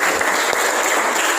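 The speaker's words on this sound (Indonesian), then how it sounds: "beri tepuk tangan" Classroom audience applauding a student presentation group, a dense continuous burst of many hands clapping, loud and close, lasting only a moment.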